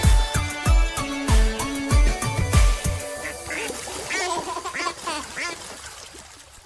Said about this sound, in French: Maman canard dit coin, coin, coin, coin